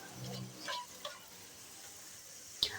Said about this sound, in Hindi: ये डालकर हम इसे हल्का सा फ्राई करेंगे